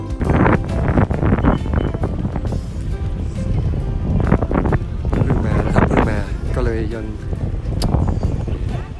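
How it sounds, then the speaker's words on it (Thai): Strong wind at a snow-covered reservoir in Lijiang, China, buffeting the microphone in loud rumbling gusts that rise and fall through the whole stretch, while someone talks over it. "ตรงนี้มันโล่งแล้วก็ลมแรงนะฮะลมแรง"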